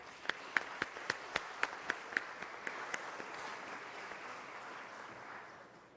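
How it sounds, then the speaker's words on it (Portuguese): A few people applauding at a solemn session of a legislative assembly honouring lawyers: about ten crisp, evenly spaced claps up front, then a softer scatter of claps fading away. "Uma salva de palmas."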